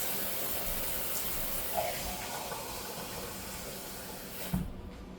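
Tap water runs steadily into a measuring cup in a home kitchen, a continuous hissing splash that cuts off near the end with a small clunk.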